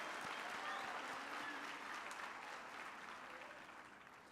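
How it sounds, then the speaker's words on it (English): Steady applause from a graduation ceremony audience at the University of the Free State, a faint, even wash of many hands clapping that tapers off slightly toward the end. "I think we should also give a hand of applause to those."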